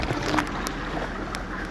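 A boat's engine at full throttle while cruising the Twin Lagoon at Coron, Palawan: a steady, close, broadband roar mixed with rushing water and wind buffeting the microphone, continuous throughout with no voices.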